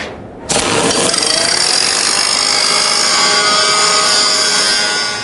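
A power tool, likely a grinder, runs loud and steady after starting abruptly, cleaning a steel T-joint before welding.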